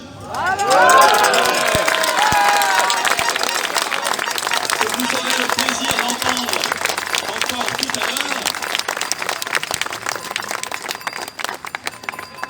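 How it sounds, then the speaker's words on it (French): Crowd applause for the musicians at an outdoor patriot protest rally in April 2021, a steady wash of clapping and cheering running under someone speaking through amplification. "je tiens évidemment à ce que vous applaudissiez nos musiciens"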